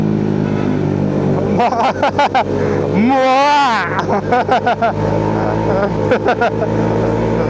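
Scooters speed past on a night road in Tarlac, their engines rising and falling in pitch as one sweeps close by, over the steady drone of a touring motorcycle ride.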